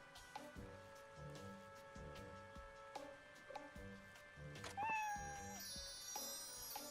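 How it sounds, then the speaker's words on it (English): A sparkling cat in Like a Dragon: Ishin meows softly with a couple of short mews, faint against steady game music and ambient effects, with no talk over it. "Oh my god, it's a sparkling cat."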